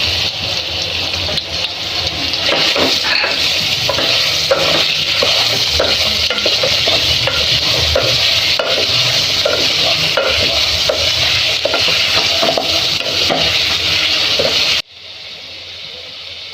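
Raw mango pieces fry with kalonji seeds in a pan, a steady loud sizzle running under repeated scraping stirs for most of the stretch before cutting off abruptly near the end, leaving a quieter hiss.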